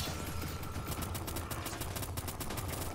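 Sustained gunfire in the Q-Clash game, a rapid even rattle of automatic shots over a constant rumbling backdrop, fairly quiet and unbroken throughout.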